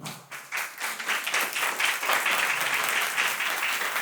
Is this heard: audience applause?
yes